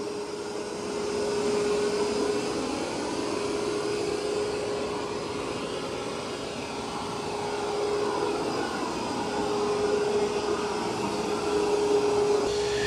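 An Ecovacs Deebot N20 Plus robot vacuum cleans carpet, its steady high-pitched whine and suction roar swelling gently as it moves back and forth, with no voices.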